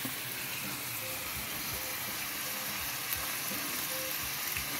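Chicken frying in a pan for bacon-wrapped deer and chicken poppers, a steady close hiss and crackle of sizzling fat with faint low knocks underneath.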